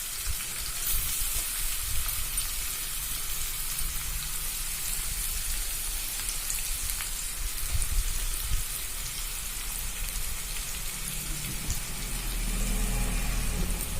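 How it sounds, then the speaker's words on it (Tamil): Grated raw mango sautéing in a hot pan for rice, a steady bright sizzle and crackle running throughout, close and continuous with no voices. "மாங்காய் திருகி வச்சதை சேர்த்துட்டு நல்லா வதக்கிக்கோங்க"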